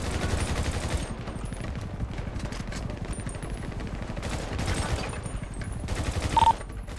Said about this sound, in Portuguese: Deu um tiro nele